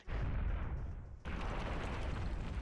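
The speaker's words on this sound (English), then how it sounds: "A large piece of the ceiling suddenly collapsed with the sound of an explosion." In the video game Collar X Malice, a large piece of ceiling collapses with an explosive blast. One loud boom is followed by a sharper burst of debris crashing down, sounding close and heavy.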